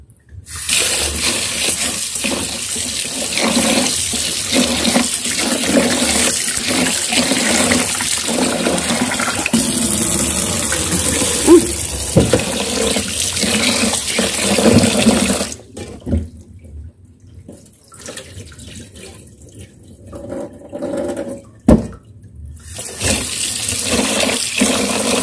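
Water runs steadily from a tap into a cooking pot for biko, a loud continuous gush, then stops briefly before a second pour.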